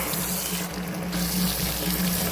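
Water splashes and trickles steadily while a sheep's lanolin-rich fleece is gently washed for dyeing on a farm, a close, continuous wet rush with no talking.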